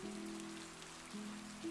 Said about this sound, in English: The sound of the rain outside